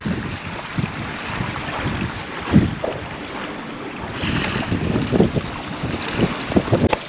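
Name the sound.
wind blowing at a lakeside campsite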